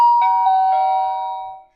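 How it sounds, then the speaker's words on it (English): Outdoor doorbell camera at an RV rings after its button is pressed: a clear electronic chime of a few descending tones that rings out and fades over under two seconds, with no talking. "That's the way that the doorbell sounds."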